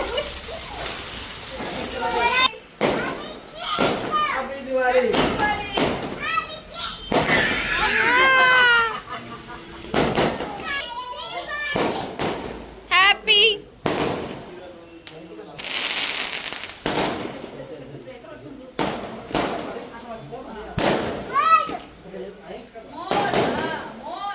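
Firecrackers go off during a family nomulu ritual gathering at home, a string of sharp cracks and pops scattered irregularly across the scene amid constant lively chatter and voices.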